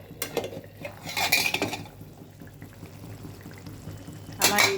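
A metal spoon stirs mustard hilsa curry in a pan, scraping and clinking against the metal in a few short bursts, close and fairly quiet, with a brief sizzle between strokes.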